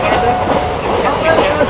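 Passenger train on the Krishnanagar to Azimganj line running at about 108, heard from on board as a loud, continuous rumble with quick clickety-clack of the wheels over the rail joints.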